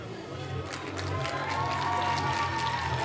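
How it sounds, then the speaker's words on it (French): Film team applauding on the red carpet at Cannes, a steady crowd-like wash of clapping and cheering with some murmur, heard at moderate distance and building slightly. "Les applaudissements viennent de tout le reste de l'équipe"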